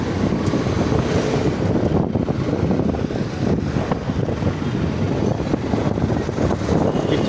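Wind roars and buffets the microphone while riding a motorbike through traffic near Hoskote: a loud, continuous rushing rumble with brief gusty surges and no voices.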